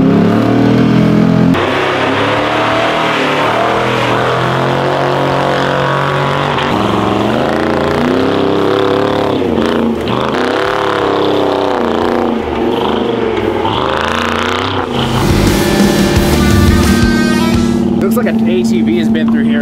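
A K5 Blazer engine revs hard and roars loud and close while driving through deep snow on a trail, the pitch rising and falling with throttle surges and a sharper burst near the end.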